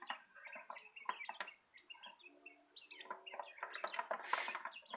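Continuous high peeping from week-and-a-half-old quail chicks packed into a bucket, many overlapping chirps at close range with no voices.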